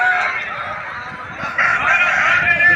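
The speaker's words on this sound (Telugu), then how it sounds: "చిన్న పందెంకి వచ్చే కోడండి" A country fighting cock, a small-bout bird, calls at a busy rural poultry market in Nallapadu. Its harsh, honking crow rises over a constant background din at close range.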